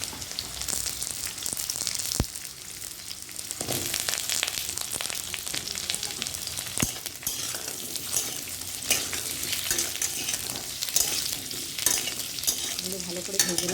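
Potato and papaya pieces fry in a pan while being stirred, giving a continuous close sizzle broken by scraping stir strokes and occasional clinks.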